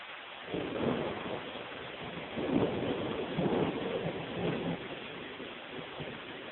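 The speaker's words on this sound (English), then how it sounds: "Okay, that was pretty decent for thunder" Thunder rolls through an August thunderstorm in long, low rumbling swells that rise and fade over several seconds, fairly distant and moderately loud against a band-limited background with faint rain and wind.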